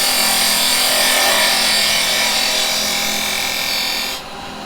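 A 6mm hollowing tool cuts into spinning wood on a lathe, making a continuous bright scraping hiss that stays steady and loud before dropping off abruptly near the end.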